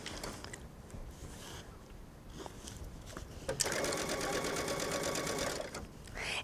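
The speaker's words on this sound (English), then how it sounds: "Now I'm going to start at the top and stitch down." Quiet handling comes first, then a sewing machine starts stitching down a jacket facing, giving a steady close mechanical whir with a rapid needle rhythm that runs for about three seconds.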